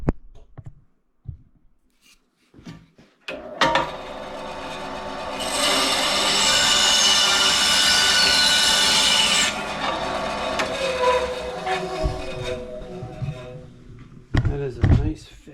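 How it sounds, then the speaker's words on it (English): Bandsaw trims a walnut wedge flush on a hammer handle: the motor spins up, then a loud, steady, close cutting whine lasts several seconds before winding down, with brief speech and shop clatter before and after. "let's clean that off same way everybody does. With the bandsaw."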